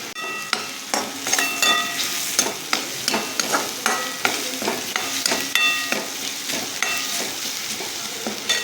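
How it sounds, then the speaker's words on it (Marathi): Green chillies frying in oil in a pan, a steady sizzle broken by repeated sharp scraping and clacking strokes of a spatula stirring, close and fairly loud, with no voices. "असं तेल सुटेपर्यंत छान अशी मिरची भाजून घ्यायची"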